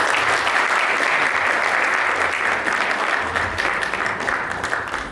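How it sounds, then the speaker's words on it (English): Loud, sustained applause from a large audience at a volunteer appreciation event, a dense, even roar of clapping that holds steady throughout and eases slightly at the end. "So give them a big applause."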